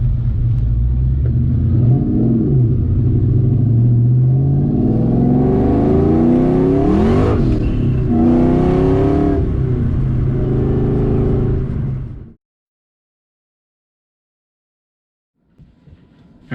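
A 2020 Ford Mustang Shelby GT500 pulls away with a deep, loud engine rumble that rises and shifts through gears for about twelve seconds, then cuts off abruptly into silence.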